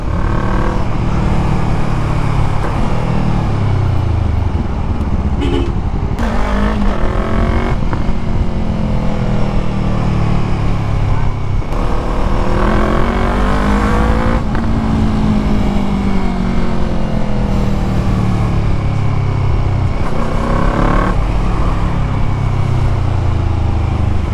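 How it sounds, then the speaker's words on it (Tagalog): Road traffic heard from a motorcycle on a Monday ride, loud engine drone with repeated revving and gear changes as other vehicles pass close by, continuous throughout. "Traffic already"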